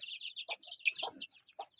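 Chicks peep in rapid, high chirps close by, a busy cluster of short calls with a few lower clucks mixed in.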